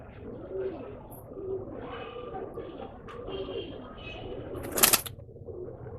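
Pet birds in a pet shop, including a pair of Chinese birds, give soft repeated cooing calls at close range, with a sudden sharp flutter or rustle burst near the end.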